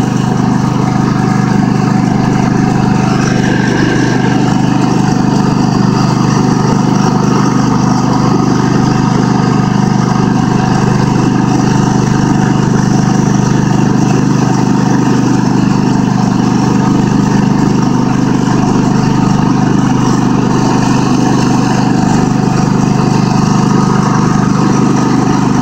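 A Craftsman ProSeries garden tractor engine runs steadily at close range for the whole stretch, a continuous low droning hum with no talking over it.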